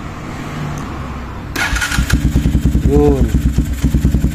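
A motorcycle engine cranks and catches at close range, then settles into a steady, pulsing idle with a rapid rhythmic beat, while someone talks over it.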